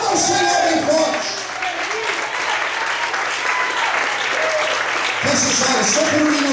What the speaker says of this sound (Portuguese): Levanta a sua mão, adore e aplauda o Senhor bem forte.